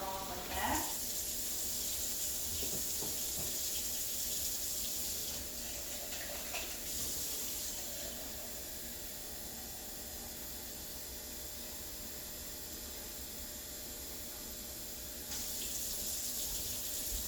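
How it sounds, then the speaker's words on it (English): Water from a kitchen tap runs steadily into a container, a soft, continuous rushing stream with a few faint clunks near the start. "So right now I'm going to get some water in this container."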